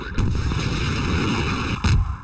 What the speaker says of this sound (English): Why use bullets when you have rockets?